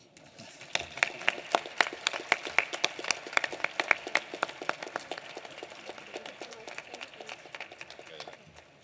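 Delegates at a General Assembly of States Parties session applaud their newly installed chairperson, a steady burst of many hands clapping that swells early, then settles into a sustained, slowly fading round filling the hall.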